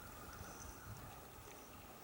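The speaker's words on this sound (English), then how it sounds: "This is a little stream here at Hemlock Draw." A small, clear stream at Hemlock Draw flows steadily with a soft, continuous trickle and babble, heard alone and faint with no voices.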